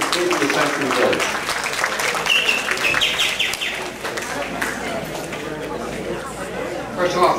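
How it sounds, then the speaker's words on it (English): Audience applause at a Century Village community meeting in Boca Raton, a dense clapping crowd with chatter and voices mixed in, gradually thinning out. "They deserve a tremendous round of applause from the people of Century Village."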